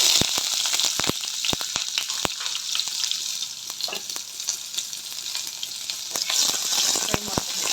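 Onion frying in a pan with cloves, cardamom, fennel and a little cumin for a paneer masala: a steady, loud sizzle with scattered sharp crackles and pops throughout.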